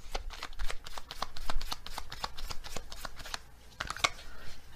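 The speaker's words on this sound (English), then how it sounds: "let's get another animal card" A deck of oracle animal cards is shuffled during a card reading, with a quick, steady run of crisp riffling flicks and taps close up, ending with a brief flurry.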